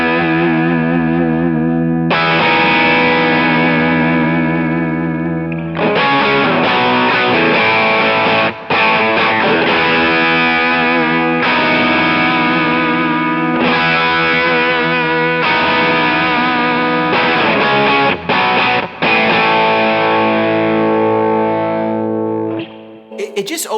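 Electric guitar through a Kemper Full OC Drive distortion, a loud, screamy Marshall-style overdriven tone playing sustained chords and riffs with short breaks between phrases, continuous for over twenty seconds with no talking.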